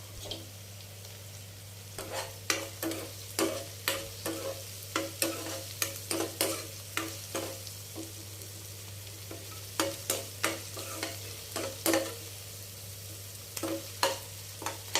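Onions frying in a pan with salt, a low constant sizzle under a run of sharp, rhythmic spatula scrapes and taps, close by, pausing briefly midway before resuming.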